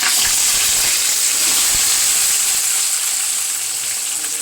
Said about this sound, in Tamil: நல்லா கடாயில் எண்ணெய் ஊற்றிட்டு இது எல்லாத்தையுமே நம்ம வதக்கிடலாம்.